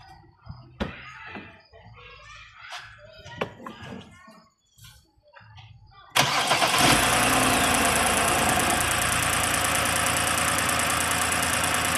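BMW 328i xDrive SULEV engine idling with a misfire from loose connectors: after several seconds of quiet clatter and tapping, a loud, steady engine rumble comes up abruptly and continues to the end.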